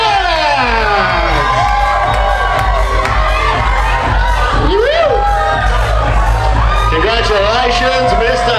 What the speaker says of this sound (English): Keep the applause going for their support team, the bridesmaids and the groomsmen.